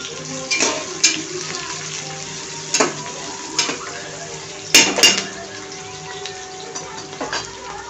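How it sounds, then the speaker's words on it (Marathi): Sliced onion frying in hot oil in a pan for tempering rice, a steady sizzle punctuated by several sharp clinks and scrapes of a utensil against the pan. "सगळ्यात आधी आपण टाकायचा उभा चिरलेला कांदा।"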